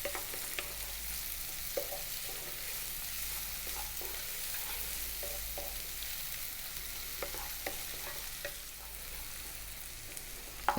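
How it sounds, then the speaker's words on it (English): Chopped onion stir-fried on high heat for mushroom fried rice, a faint constant hiss with light spatula scrapes and taps at irregular intervals, close by. "And then we're going to drop in the onion, 1 cup of onion. And we're going to stir fry this around just for 2 minutes."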